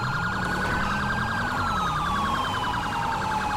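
Police car siren in the video game GTA with the LSPDFR mod, a loud, close, continuous wailing tone with rapid warbling overtones, steady and unbroken beneath a low engine drone.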